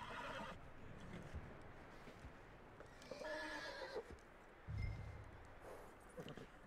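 A horse whinnies and snorts in Red Dead Redemption 2, with hoof clip-clops and quiet game ambience; the calls are faint and come in a couple of short bursts.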